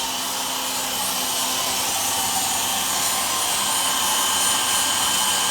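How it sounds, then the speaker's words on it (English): A power drill bores holes in the frame of a 1965 Comet to fit frame connectors, a steady, continuous whine with broad noise that holds for several seconds, with no talk. "he's gonna keep drilling holes"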